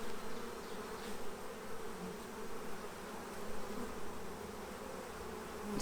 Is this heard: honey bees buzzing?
yes